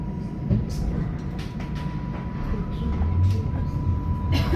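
A tram in Paris rumbles low and steady as it pulls away, with a faint electrical hum and occasional clicks and rattles from the cabin.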